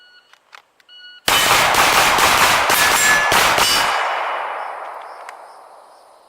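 A Smith & Wesson M&P Pro 9mm pistol fires a fast string of about seven sharp, loud shots in quick succession, followed by a ringing decay and a few faint metallic clinks.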